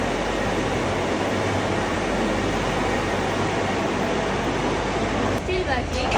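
A tea dryer machine in a Sri Lankan tea factory runs with a steady, loud, broadband roar throughout, faint voices underneath.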